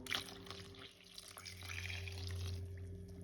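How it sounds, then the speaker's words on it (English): A milk and water mixture pours into a bowl of flour for puff puff dough, a soft liquid trickle and splash that steadies into a gentle stream over a low background hum. "I'm just going to pour the milk and water mixture into the flour bowl"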